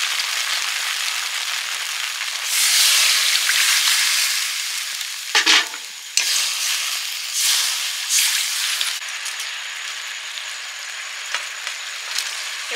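Cornflour slurry thinned with water hits a hot pan for egg chicken chow mein, giving a loud, steady, close-up sizzle and hiss that swells as stirring adds a few brief scraping bursts.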